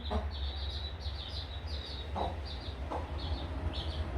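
A mother hen clucks softly and repeatedly near her newly hatched chicks on a farm, while high peeping chirps from the chicks run throughout over low background hum.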